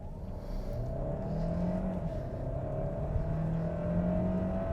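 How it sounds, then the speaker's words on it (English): A 2023 Hyundai Santa Fe Hybrid launches from a standstill, its engine drone rising and holding at a steady, fairly loud level from inside the car, with no talking. "All right, so launching the Santa Fe Hybrid."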